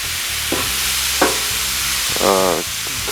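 Shrimp fry in a very hot pan for street tacos, a loud constant sizzle with a few brief scraping stirs and a short squeak, close up and without speech.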